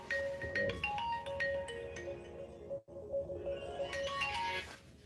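A phone ringtone plays in repeating melodic beeps, moderately loud against a noisy background, with a brief dropout partway through.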